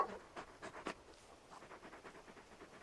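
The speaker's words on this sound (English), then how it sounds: "You're just a big puppy, aren't you? A very big puppy." Torgal, the large wolf-like dog companion in the video game Final Fantasy 16, pants softly in quick rhythmic breaths, faint and close, with no talk over it.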